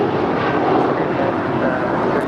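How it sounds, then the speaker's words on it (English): A SkyWest Embraer E175 jet departs LAX bound for Austin, giving off a loud, even rumbling roar that stays close and steady throughout the short stretch. "That is SkyWest 3303 departing to Austin. It's an Embraer E175."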